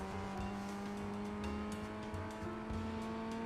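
Simulated Ray FF1600 race car engine lapping Oulton Park in a sim racing game, a steady droning engine tone that holds level throughout with slight rises and dips, heard alone without talk.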